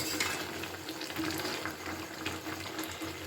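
Olives bubble and sizzle in a pan of melted jaggery syrup, giving off a continuous soft crackling hiss with faint watery bubbling throughout.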